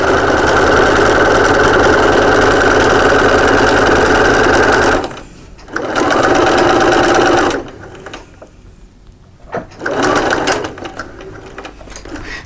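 A sewing machine stitching a fabric double cup holder bag runs in a steady loud mechanical whir for several seconds, stops briefly, restarts, then falls quiet before a final shorter run.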